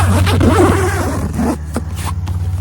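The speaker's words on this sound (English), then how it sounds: "There's a zipper." A zipper on the door of a hunting ground blind being pulled, a quick rasping run followed by a couple of short tugs, over a steady low hum.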